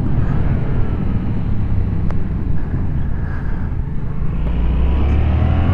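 A Yamaha MT-07 motorcycle engine pulling under acceleration, a steady, loud, close low rumble mixed with heavy wind buffeting, with no clear rise or fall in pitch.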